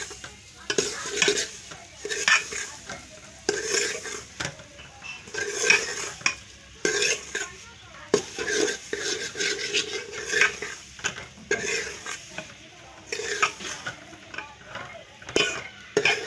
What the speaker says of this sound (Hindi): अच्छी तरह मिक्स करना है इसको और इसको ब्राउन करना है सूजी को ना